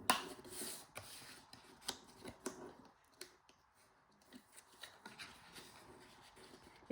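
Scored paper card is creased and folded along its score lines for a gift box, giving quiet, close crinkles, taps and rubbing in an irregular series of short bursts.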